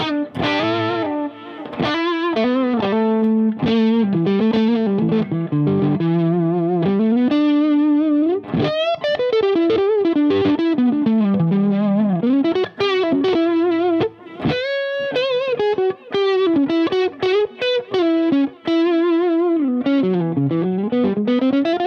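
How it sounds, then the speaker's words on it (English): An electric guitar played through an MXR Raijin Drive overdrive pedal, gritty and sustained, with bends and melodic runs continuing at a steady loud level. "let's start with the overdrive section"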